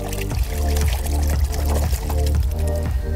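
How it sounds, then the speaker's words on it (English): Paint brushes rinsed under running tap water, a steady continuous pour that stays loud and close throughout with faint rhythmic sloshing as the brushes are worked. "All right, let's wash up."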